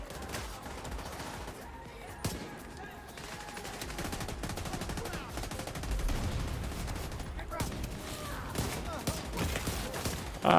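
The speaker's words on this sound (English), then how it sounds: "Shooting through cars and shit." Gunfire in The Division 2 crackles as bursts of rapid shots against cars, with booming impacts mixed in, moderately loud under a busy combat soundscape and a voice.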